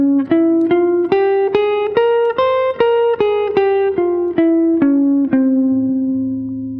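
A keyboard plays a scale up and back down, about a dozen evenly spaced notes in a steady stepwise run, bright and sustained.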